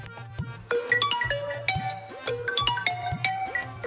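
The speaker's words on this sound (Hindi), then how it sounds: "ओए सुनो, मोबाइल की घंटी फिर बज रही है।" A phone ringtone plays a repeating melodic chime in short bursts, fairly loud and close, with a low hum underneath.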